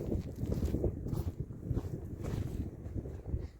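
Strong wind buffets the microphone in continuous rough gusts while running outdoors past a farm, a loud low rumble with no other sounds standing out.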